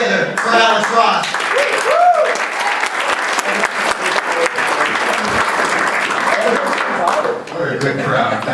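Comedy club audience applauding comedian Alex Ross, a dense, loud, steady wash of clapping that fills the room for several seconds, with a voice speaking briefly over it near the start.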